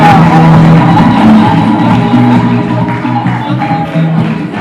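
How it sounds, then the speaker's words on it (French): An audience cheers and whoops loudly for a student quiz team, a steady close crowd roar of voices with scattered shouts and sustained tones throughout. "Et ils méritent tous des applaudissements. On les applaudit"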